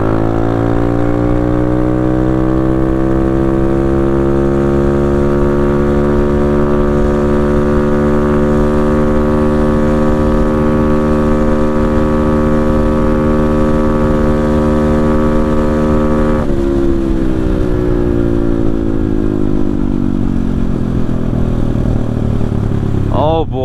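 Taotao DB17 125 pit bike with an air filter upgrade droning at top speed, a loud steady buzzing engine note held close for a long stretch, dipping briefly near the end as it eases off.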